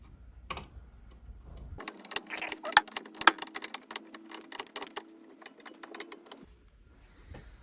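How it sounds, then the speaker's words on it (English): A 21 mm wrench tightens a bolt on a C5-C6 Corvette front brake assembly during a brake kit install, giving a run of quiet rapid metallic clicks and ticks over a faint steady hum in a workshop. "I use a 21 millimeter wrench to tighten the bolt"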